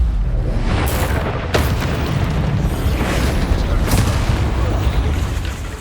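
Bombarda blasting-spell explosions in Hogwarts Legacy, a run of deep, rumbling booms with sharp cracking bursts over continuous low roar, loud and close, with a voice heard faintly beneath.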